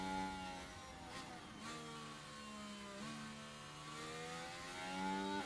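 A Red Bull Formula 1 car engine in the F1 Manager 2024 racing game revs up repeatedly in rising whining sweeps, steady and moderately loud, with no talk over it.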